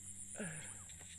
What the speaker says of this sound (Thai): นี่เสียงกบเสียงเขียด